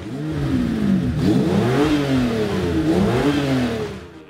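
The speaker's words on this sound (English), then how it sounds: "you have that V12 sound" A large V12 truck engine revs up and down in several swelling surges, loud and close, with a deep throaty exhaust note.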